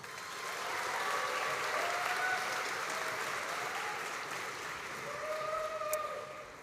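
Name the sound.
audience applause for graduates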